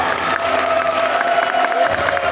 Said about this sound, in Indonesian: Terima kasih banyak atas tepuk tangan Anda